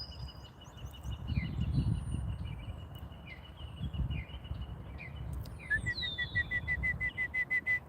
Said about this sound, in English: there's that bird call going off.